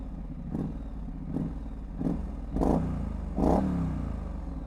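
A warmed-up 2021 Triumph Street Scrambler motorcycle engine runs with a steady low rumble, punctuated by several short throttle blips that grow louder toward the end, heard close and alone.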